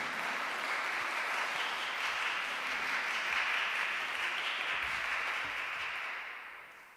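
A congregation applauds at a Eucharistic celebration as a priest is welcomed to speak, a fairly quiet but steady wash of many hands clapping that holds for several seconds and then tapers off near the end.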